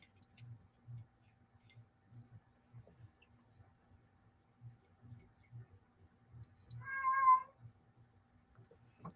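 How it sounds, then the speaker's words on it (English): A house cat gives one clear meow partway through, faint and a little distant, set against a quiet room with a soft, regular ticking in the background. "That was my cat."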